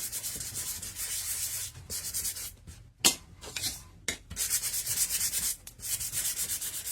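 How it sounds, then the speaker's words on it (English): Ivory pumpkin decorations on an autumn door piece are lightly sanded by hand: soft, close, steady rubbing strokes with a few brief pauses between passes. "the first thing I'm going to sand lightly are the ivory pumpkins"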